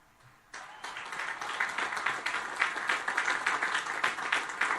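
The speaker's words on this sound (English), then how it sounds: "very low energy clapping" Light, steady applause from a crowd of military cadets, a soft patter of many hands clapping that starts abruptly and continues evenly without swelling, fairly distant and subdued.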